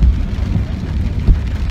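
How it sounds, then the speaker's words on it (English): Rain falling outside a car, heard from inside the cabin as a steady, close hiss with a low rumble underneath, brief and unbroken. "you realize that it's raining outside"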